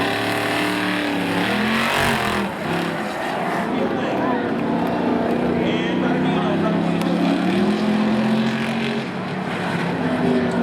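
Cars in a spectator drag race at Seekonk Speedway roar steadily and loudly throughout, engines droning and shifting pitch as they run, with a commentator talking over the noise.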